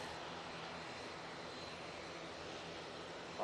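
Ryanair jet airliner engines spool up at Manchester Airport as a steady, broadband roar that holds at an even level throughout, without speech.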